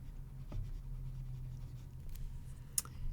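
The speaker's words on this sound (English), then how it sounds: "I'll then write out the day Sunday" A stylus writes on a reMarkable Paper tablet with faint, close scratching under a steady low hum, broken by a few soft taps and one sharp click near the end. No one speaks.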